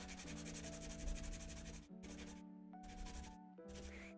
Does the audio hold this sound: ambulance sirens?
no